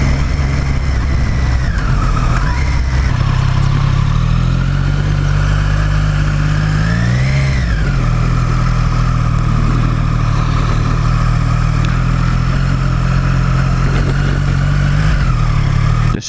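A Triumph Street Triple 765 RS motorcycle engine hums steadily while riding on a road, a loud continuous drone with a brief throttle rise and fall partway through, no talking.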